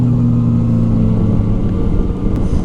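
A Yamaha Tracer 900 GT motorcycle engine runs loud and close in a steady droning rumble, with a faint rise in pitch as it pulls and no voices over it.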